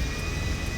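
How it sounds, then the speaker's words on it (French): A private FBI airplane's engine in GTA 5 drones steadily, a loud continuous hum with no talking. "on est pilote d'un avion privé"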